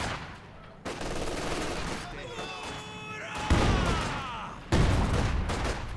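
A Maxim machine gun fires in Company of Heroes 2, rattling bursts and gunfire thuds among battlefield noise, fairly quiet and distant under a commentator's ongoing talk.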